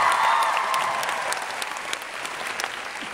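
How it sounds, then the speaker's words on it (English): Applause from the X Factor Bootcamp audience for a warm-up act, a dense wash of many clapping hands, loud at first and slowly easing off over a few seconds. "this is a big round of applause for Royce warming you guys up"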